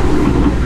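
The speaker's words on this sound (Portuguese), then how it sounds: "Por isso que o nome desses trenzinhos é monotrilho." A São Paulo monorail train runs on its single elevated track, a steady low rumble and hum heard close and continuous with no talk.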